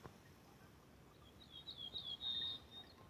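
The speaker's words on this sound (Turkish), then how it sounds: "Şurada bir kuş var." A bird sings in a forest with a few short, faint high chirps rising over quiet outdoor background noise near the end, with no talking.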